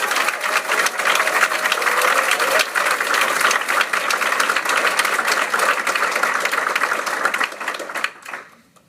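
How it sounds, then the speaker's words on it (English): A graduation ceremony audience at an acupuncture college breaks into a sustained, dense round of applause, loud and even for about eight seconds before tapering off at the end. "I think we deserve a little round of applause."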